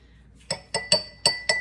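A spoon with cornstarch taps against a glass five times in a quick, uneven rhythm, each clink bright, ringing and close up, with no talking.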